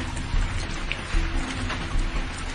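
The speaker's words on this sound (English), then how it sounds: "It's raining." Rain falls steadily in a dense broadband patter, with occasional heavier drops.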